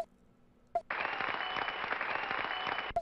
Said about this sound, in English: I don't like the clap.